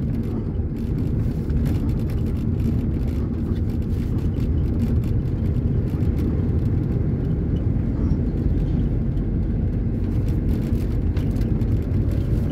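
A car passes on the BR-116 highway, heard as a steady, loud, broad roadside rumble with wind and tire noise that stays fairly constant, no voices clearly heard.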